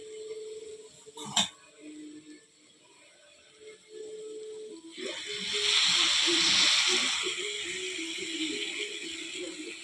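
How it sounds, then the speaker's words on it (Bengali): Milk pours into a cooking pot in a broad, steady splashing rush that builds around the middle and carries on to the end, after a few earlier clinks and faint stirring sounds. "দুধটা দিয়ে দেব"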